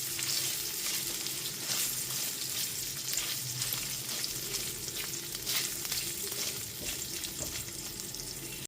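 Cloves, cardamom and coconut frying in oil over a low-to-medium gas flame, a continuous close crackling sizzle with occasional stirring scrapes, no talk.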